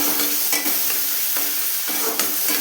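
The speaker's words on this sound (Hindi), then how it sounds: "हमें इसमें चलाते रहना है। और देखिए, इस तरह से खुरनी से करने से देखिए टमाटर गल रहे हैं।" Tomatoes and spices frying for bhindi fry sizzle loudly and steadily in a pan, with a metal spatula scraping and stirring in repeated strokes close up, no voices.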